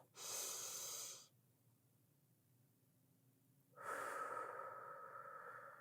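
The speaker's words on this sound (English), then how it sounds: "Another deep breath in through your nose" Two slow, deep breaths, a close airy inhale through the nose, a quiet pause, then a long audible exhale through the mouth.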